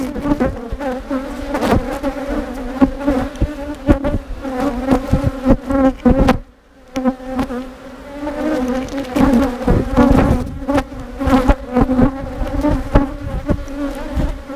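Many honey bees buzz close by at an open hive in a steady, dense hum, the droning swelling and dipping with a brief lull midway, no talking.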